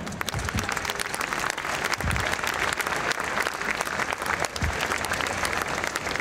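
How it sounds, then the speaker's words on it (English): Audience applause at a global cycling conference award ceremony honoring the Cycling Embassy of Denmark, a dense steady wash of clapping from a large crowd lasting throughout, fairly loud and close with no talk over it. "But a very big applause for the Cycling Embassy of Denmark."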